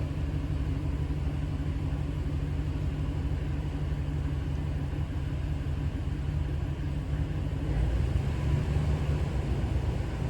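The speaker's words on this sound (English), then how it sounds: "Let's see if we can figure out which cylinder is misfiring now." Hemi engine idling with a cylinder misfire, a dense steady low rumble heard close and loud for the whole stretch, growing slightly heavier near the end.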